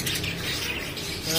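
African lovebirds in a pet store chirp in a dense, busy chatter of overlapping calls, fairly close and continuous over a brief moment.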